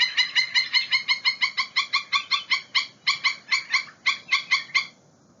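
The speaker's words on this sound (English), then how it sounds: "Black-necked stilt is a common bird observed in wetlands, marshes, and baylands, and has a sound like this." Repeated sharp, yelping calls of a black-necked stilt, a large black-and-white shorebird of wetlands and marshes, given in a steady rapid series of about twenty loud, close notes before stopping.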